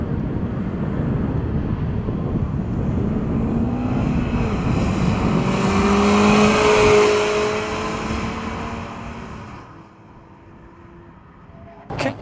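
A naturally aspirated sports car engine revs up through the gears with a rising whine and rushing wind, peaks, then eases off as the engine settles.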